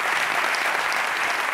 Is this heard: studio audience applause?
yes